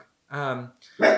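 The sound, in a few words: dog barking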